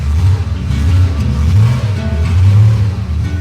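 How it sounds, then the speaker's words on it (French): A car engine revs loudly up close, its pitch rising and falling in a couple of surges over a steady rumble. "c'est un bruit de moteur"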